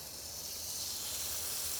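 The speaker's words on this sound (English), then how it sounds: "Make sure you got yourself a hot frying pan and start to sear the beef all over." Beef searing in a hot frying pan with olive oil gives off a steady, soft sizzling hiss that holds evenly through the short stretch.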